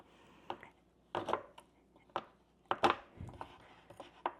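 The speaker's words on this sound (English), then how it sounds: "I'm going to chop this up in smaller pieces so it doesn't take as long for it to melt" A knife chopping almond bark into small pieces on a board, about a dozen sharp irregular cracks and thuds, close and fairly quiet.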